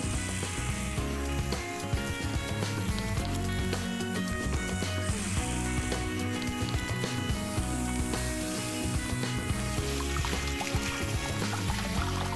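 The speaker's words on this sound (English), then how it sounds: "Okay, on the grill they go." Chicken burgers sizzle steadily on a grill, a dense, continuous frying hiss that stays loud and even throughout with no talking.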